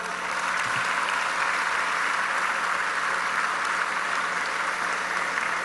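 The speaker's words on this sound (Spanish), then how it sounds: "para quien pido un fuerte aplauso" A large audience at the Chiapas governor's second annual report address claps steadily and loudly in honor of the Interior Secretary. The dense, even applause fills the hall for several seconds with no voices above it.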